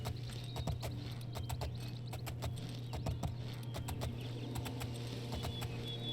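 Horse hooves clip-clopping during a ride in the video game Oblivion, a quick, uneven run of sharp hoofbeats in a steady gallop, close and clear over a low game hum, with no talk.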